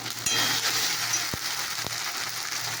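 Ginger-garlic paste fries in a pan with a soft, steady hiss, broken by a few sharp metallic taps of a spoon against the pan.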